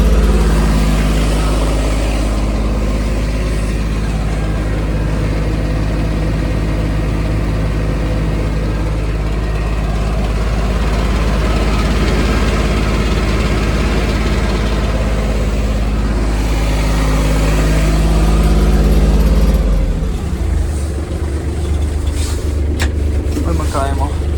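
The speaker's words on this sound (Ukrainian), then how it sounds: "Перевіримо другу швидкість. Додамо трошки газку." A Kubota KT-24 mini tractor's engine runs close by with a heavy, continuous low rumble that swells as throttle is added, then shifts in tone near the end.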